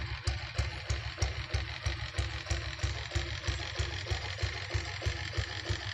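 A Royal Enfield diesel Bullet motorcycle with original company diesel engine idles with a steady, even thumping beat, each pulse distinct and rhythmic, heard close and alone.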